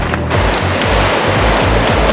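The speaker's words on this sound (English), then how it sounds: "they're pretty good waves. It's like a washing machine out here." Ocean waves churning and surging against the rocky Kaikoura coast of New Zealand, a loud continuous rushing wash with repeated pulsing surges, close by and without talk.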